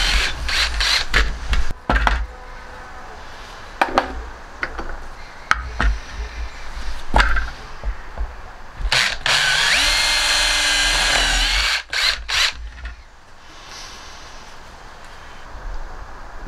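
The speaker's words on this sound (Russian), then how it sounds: "Теперь осталось только просверлить отверстие для крепления" Drilling holes in cast fishing sinkers gives sharp tool bursts and clicks, then a sustained high drill whine lasting a few seconds before it cuts off, with scattered handling knocks around it.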